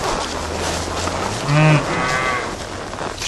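A cow moos once on a farm near a mineral feeder, a short harmonic bellow rising briefly over a steady low outdoor background.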